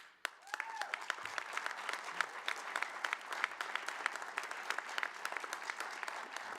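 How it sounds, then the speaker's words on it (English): City council members applaud during a State of the City address, a steady patter of polite clapping from a room of people, moderately distant and even throughout, with no talk over it. "some council people are being polite and clapping"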